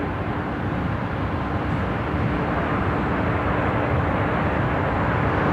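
Jetstar flight 810 arriving at Brisbane Airport from Sydney, a loud continuous low jet rumble and roar heard from nearby.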